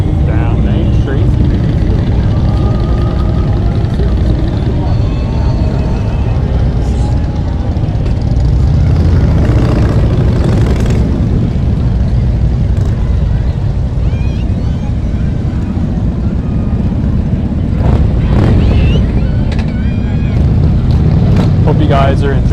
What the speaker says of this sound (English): Apple City Motorcycle Club here in Jackson, Ohio